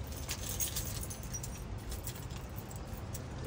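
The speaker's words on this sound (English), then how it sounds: "Oh, I got the keys." A bunch of keys jangles and rattles continuously at a house's front-door lockbox, a bright metallic clinking over a steady background hum, with no talking.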